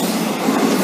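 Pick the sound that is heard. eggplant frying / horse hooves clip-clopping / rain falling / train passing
train passing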